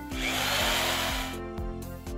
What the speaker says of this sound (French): Non, Georges, ça c'est la visseuse. C'est comme un tournevis, mais ça visse tout seul.